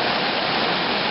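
Storm water rushes down an outfall brook across a gap of about 25 feet, a dense, steady roar of falling water that stays loud and unbroken the whole time.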